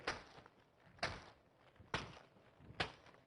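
A folded newspaper is struck against a knee four times at a steady pace, each hit a dull papery slap with a short rustling tail, close and alone with no talking.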